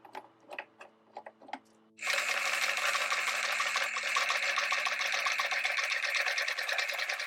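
A sewing machine topsitches along the edge of a fly-front zipper on trousers, catching the left facing. A few light clicks come first, then a steady, close, rapid whirring hum that runs unbroken for about five seconds.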